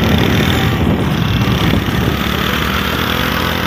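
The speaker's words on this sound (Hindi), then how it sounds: "पूरा फाड़ के बाइक चला रहे हैं," A motorcycle is ridden hard along an open, straight road toward Roing, its loud, close engine droning steadily with a brief dip partway through and no voices.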